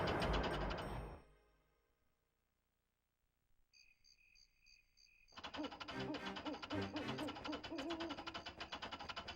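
A winch switches on in Donkey Kong 64, a video game, giving a faint mechanical whir with a repeated two-tone beeping, then a busier stretch of clanking machinery and looping game music.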